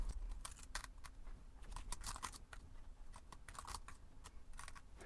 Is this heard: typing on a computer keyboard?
yes